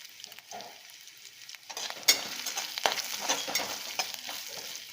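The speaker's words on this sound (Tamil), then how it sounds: "இஞ்சி வதங்கட்டும்." Ginger sautés in oil in a pan, starting quiet and then building into a steady crackling sizzle. Scraping stirs and a few sharp utensil knocks sound close by, and there is no talk.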